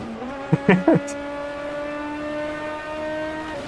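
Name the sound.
turbocharged Group 5 Escort race car engine in video game Automobilista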